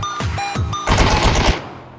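A short burst of rapid gunfire from the video game PUBG, several quick shots close together, then a denser crackling volley that fades out.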